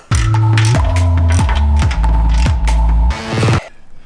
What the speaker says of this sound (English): Now we'll take a 16mm to these last bolts.